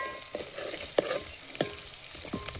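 Garlic fries in a pan for a whole-brinjal curry. Soft sizzling runs under a few sharp, spaced clicks and scrapes as a spoon stirs, close and moderately quiet.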